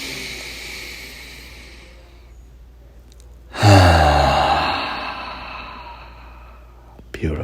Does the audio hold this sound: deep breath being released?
yes